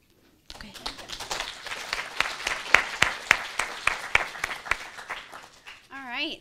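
A sudden burst of audience applause for presenters at a 2018 university quick-pitch competition builds into sharp, rhythmic claps, then thins out as a voice starts speaking at the end.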